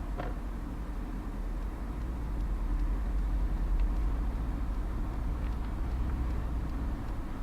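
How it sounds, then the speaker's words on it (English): Engine of a 2017 Mercedes-Benz AMG CLS63 while driving, a steady deep rumble and drone with road noise heard from inside the cabin, constant and moderately loud without speech. "let's take a quick ride and get the sound of the engine"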